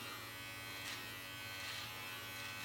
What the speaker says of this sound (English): I really do like this trimmer.